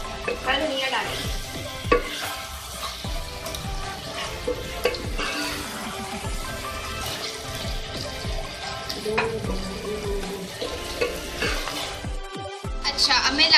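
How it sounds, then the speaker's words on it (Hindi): Masala bhindi with green chillies cooks in a pan, a busy crackling sizzle with frequent stirring and scraping strokes, close and steady, with someone talking over it at times. "आइए, इसको हम 2 मिनट पकाएंगे"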